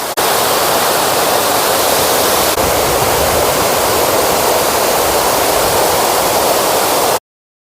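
Loud, continuous rush of rain-swollen water pouring over a large check dam at Ajapur, a dense roar that stays constant before cutting off abruptly at the end.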